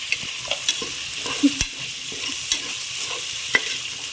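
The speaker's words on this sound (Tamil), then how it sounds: "தக்காளியை வந்து நல்லா போட்டு வதக்கிறோம்" Tomatoes sautéing in a pan for mutton biryani, a steady close sizzle with occasional stirring scrapes and clicks from a utensil, heard alone without talk.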